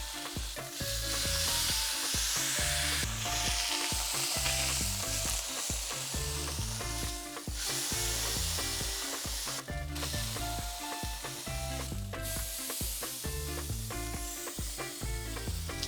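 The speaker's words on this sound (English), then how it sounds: "And then we're just gonna sear the meat on both sides." Birria meat searing in a non-cast-iron skillet, with a loud, continuous sizzle and frying crackle up close and repeated scraping and stirring of a utensil against the pan.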